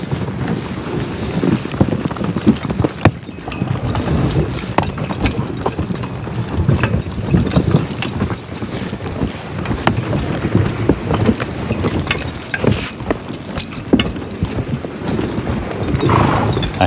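Draft horses pull a sleigh along a wooded trail, their hooves clip-clopping in a steady, continuous rhythm close by, with jingling and a constant rumble of movement throughout.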